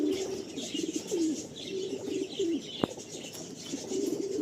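Andhra pigeons of the Machilipatnam breed cooing in a loft in Kolkata, repeated soft throaty coos in short phrases from several birds nearby, with a single sharp click partway through.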